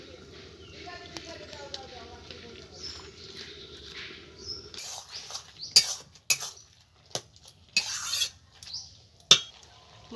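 Rice flour is mixed into a thin batter, first with a soft low stir under talk, then with a run of sharp spoon clinks against the bowl in an uneven rhythm.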